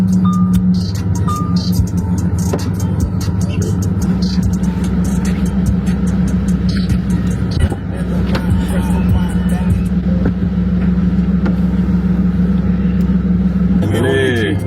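Idling engine of a supercar at a petrol station pump in Brittany, a steady low rumble and hum running throughout with background crowd babble and scattered clatter, close and fairly loud.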